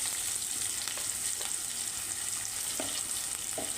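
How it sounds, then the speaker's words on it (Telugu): Green chillies with turmeric and salt frying in oil in a home kitchen pan, a steady close sizzle with faint stirring scrapes, no voices. "గ్రీన్ చిల్లీ యాడ్ చేసుకొని అవి బాగా ఫ్రై అయిన తర్వాత అందులో కొద్దిగా పసుపు, సాల్ట్ వేసుకొని వాటన్నిటిని కొంచెం ఆయిల్లో మగ్గనివ్వాలండి"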